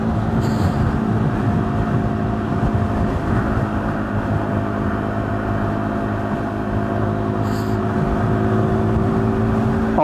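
A KTM 390 Duke motorcycle pulling hard in an overtaking lane, its engine a steady, loud, droning roar mixed with wind rush for the whole stretch, with no talking.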